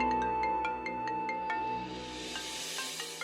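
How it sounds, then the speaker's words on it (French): A mobile phone rings with a repeating tonal melody pattern over a sustained music bed, fairly loud and steady with no talk. "Et il faut que ce soit maintenant que mon téléphone sonne."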